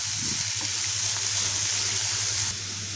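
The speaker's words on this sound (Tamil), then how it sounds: "இப்போது நம்ம 1 நிமிஷம் வெங்காயத்தை வதக்கிக்கலாம்" Steady sizzling hiss of onions sautéing in a hot pan, continuous and fairly loud, with no talking.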